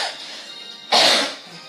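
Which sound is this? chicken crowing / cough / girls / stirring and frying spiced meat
cough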